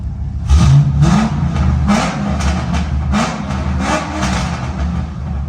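A C5 Chevrolet Corvette with longtube headers and catalytic converters removed revs hard and repeatedly, its rising and falling pitch roaring close by with a rough, rumbling exhaust note and no talking.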